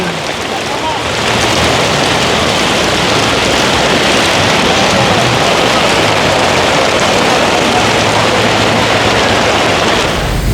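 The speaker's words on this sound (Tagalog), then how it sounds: "Ang lakas ng ulan." Heavy afternoon rain at Commonwealth Market pours in a loud, constant roar with no breaks, a dense hiss close by and filling the whole clip.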